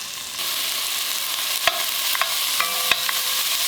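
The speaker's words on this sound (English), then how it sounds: "I'm just going to put this in a dry pan, but I'm just going to cook that on a high heat until I've rendered the fat" Pancetta frying in a dry pan over high heat for Bolognese sauce, giving a steady broad sizzle with a few sharp utensil clicks and taps against the pan.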